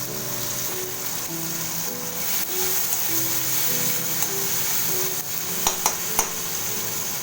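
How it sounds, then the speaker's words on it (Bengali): Cumin paste goes into softened tomato in a hot pan, frying with a continuous sizzle, light stirring and a few sharp utensil taps near the end, with no talking. "এক এক করে মশলাগুলো দিয়ে দেবো প্রথমে আমি দিয়ে দিচ্ছি জিরে বাটা"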